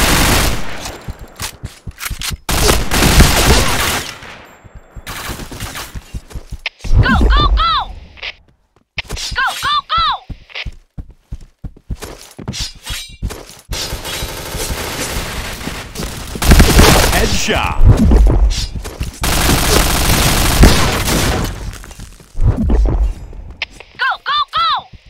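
MP7 submachine gun fire in the shooter game Point Blank comes in rapid automatic bursts, loud and close, broken by short pauses, with voices talking over parts of the action.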